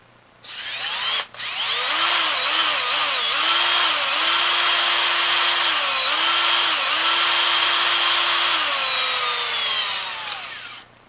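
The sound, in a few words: power drill boring through wood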